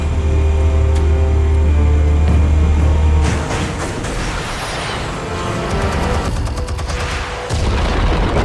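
Explosives detonating in Batman: The Telltale Series, a loud sustained low rumble that cuts into a burst of crackling debris and blasts, then another rumbling boom and scattered crashes.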